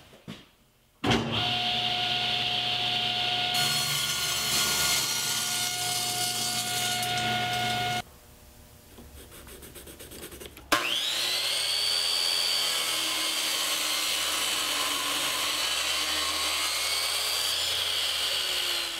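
A power saw cuts a piece of bubinga wood to length, starting with a loud sustained whine that cuts off abruptly, then a quieter lull before the saw revs up again and runs steadily, close and loud.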